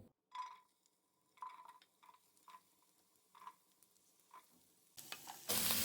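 Potatoes dropped into hot oil in a pan on a stove give intermittent sizzles and stirring scrapes, quiet and close, followed by a louder, steady frying hiss.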